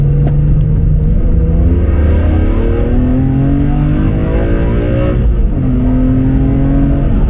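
A BMW CSL sports car engine revving loudly and continuously past 4000 rpm, its pitch climbing steadily through the gears with a deep, throaty rumble, close up and without talk.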